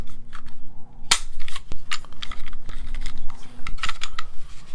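A Sig P320 M17 pistol being handled for disassembly, with its slide locked to the rear. A sharp metallic snap and a few lighter clicks and taps ring out close and clear, with no talk.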